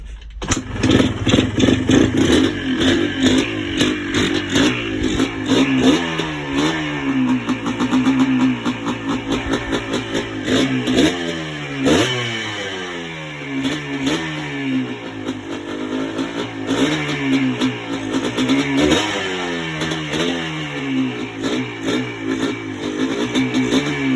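A Yamaha Blaster ATV's two-stroke engine starts and then runs steadily, loud and close, with a buzzing, pulsing note that revs and settles repeatedly over about 24 seconds. The reeds may be worn.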